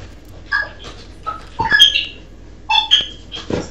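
A dog gives short yelps, whimpers and a few barks in separate bursts, loud and close, with quiet gaps between them and no talk.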